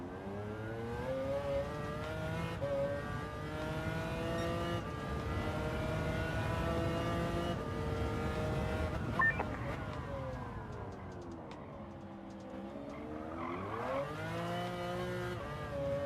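A race car in Gran Turismo 7 during an endurance race at Spa, its engine droning steadily and loudly throughout, pitch rising and falling with gear changes and a dip then swell toward the end.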